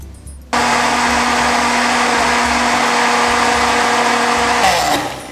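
An electric blender blends Tahiti limes with olive oil for a jiló pâté sauce, starting abruptly into a loud, steady high-pitched whirring drone that holds for several seconds before winding down.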